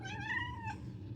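One young cat, a kitten, gives a single drawn-out meow that falls in pitch, close but fairly quiet over a low background hum, with no talk.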